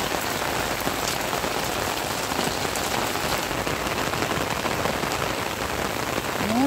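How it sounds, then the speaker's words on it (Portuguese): Steady rain falls in rural Bahia, Brazil, a dense, even hiss of drops striking surfaces, continuous and fairly close, with no voices. "ouço o barulhinho da chuva."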